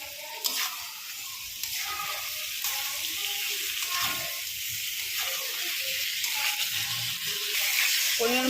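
Singhi fish dropped into hot spiced masala in a pan, hissing and sizzling steadily at close range, with occasional stirring clatter and a faint voice in the background.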